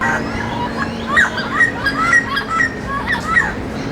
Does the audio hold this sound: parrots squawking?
yes